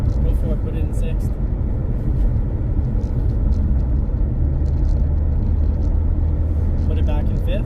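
A supercar with a Tremec manual gearbox cruises in sixth gear, a steady low engine and road rumble running throughout while people talk over it inside the cabin.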